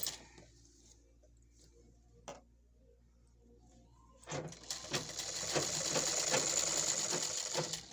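An electric sewing machine stitches a garment, starting with faint ticks and then running in a fast, steady, close mechanical whir for the last few seconds.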